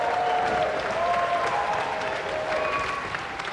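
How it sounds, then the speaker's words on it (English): Studio audience applause fills the moment, a dense, sustained clapping from a crowd that holds steady throughout with no speech over it. "A round of applause again for Ashley Pass."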